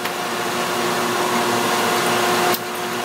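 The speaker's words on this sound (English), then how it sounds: "So the grinder's grinding it within half thou" A grinder on a Wadkin machine works a metal block with a steady, loud mechanical whine and hum that drops off abruptly near the end.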